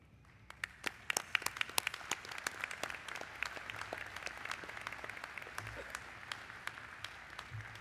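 Graduation ceremony audience applauding, many separate sharp hand claps scattered throughout, fairly distant and soft, settling into a steady patter with a few louder individual claps and faint murmuring.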